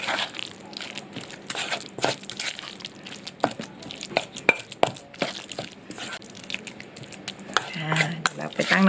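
A spoon works through fritter batter of chopped banana blossom, minced pork and crispy frying flour in a bowl, giving close, irregular scrapes and clinks that grow busier toward the end.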